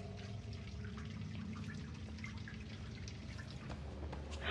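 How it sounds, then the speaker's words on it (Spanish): Faint watery splashes and drips from someone walking through water in the horror game Outlast, soft and distant under a steady low ambient drone. "Estoy escuchando a alguien caminar en el agua."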